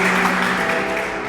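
A church congregation applauds with steady, dense clapping that carries on without a break, filling the room at moderate loudness.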